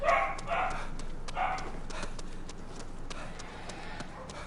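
A dog barks a few times in a video game, short close yaps bunched at the start and fading into a faint clattering background with no talking.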